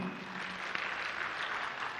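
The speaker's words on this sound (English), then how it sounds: "Clap for him" A crowd at a political public participation rally in Eldoret claps for a speaker. The applause is dense, continuous and moderately loud for the whole stretch.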